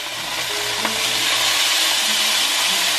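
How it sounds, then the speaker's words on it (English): Hot oil in a pan gives a loud, dense, continuous hiss of frying, steady throughout with a single faint pop near the start. "Okay, the oil popped on me."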